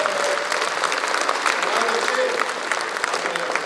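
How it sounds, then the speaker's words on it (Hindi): Applause from the audience at a Hindi hasya vyangya comedy show, continuous dense clapping at steady volume filling the whole stretch. "तालियां वालियां बजा सकते हो जो जो समझ गया वहां।"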